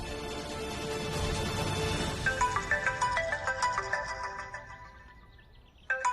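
A phone ringtone plays a repeating melodic chime pattern, loud and close, over a dense background of music and ambient sound, ending abruptly.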